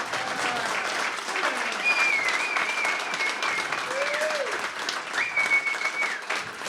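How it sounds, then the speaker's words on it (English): A PubTalk audience gives sustained applause, steady clapping from a roomful of people with occasional cheers and voices rising over the clatter. "I just want a huge round of applause for you."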